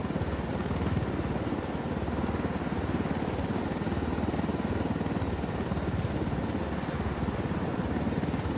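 A helicopter flies in Ghost Recon Wildlands, its rotor producing a steady, loud, rapid chopping throb with an engine whine that holds constant throughout, close by and with no voices.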